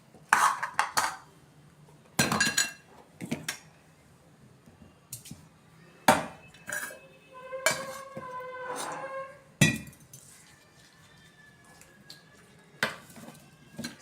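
Vegetable biryani with salt stirred in a metal pot, a spoon clanking and scraping in irregular bursts, with quieter stretches and a few ringing metallic knocks.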